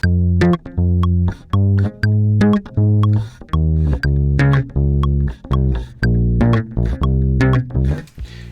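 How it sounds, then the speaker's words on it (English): A bass line of plucked, punchy notes in a steady, repeating rhythm, each note short and separated by brief gaps, played alone and fairly loud. "By the way, the bass line sounds like this."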